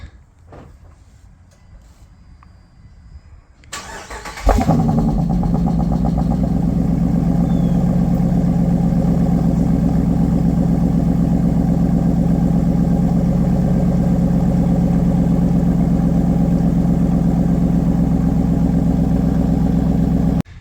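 A 2021 Dodge Durango Tow and Go with an AWE exhaust starts up after a few quiet seconds, then holds a steady, deep, loud rumbling idle close by for the remainder.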